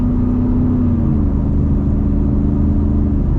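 A 2022 Ford F-150 Super Snake Sport pickup engine pulling at partial throttle, a loud, steady low rumble with a rising drone that stays dense and unbroken.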